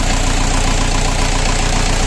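A 40 hp minitractor's four-cylinder engine idles steadily nearby with a rough, even chugging pulse that holds constant throughout, with no voices.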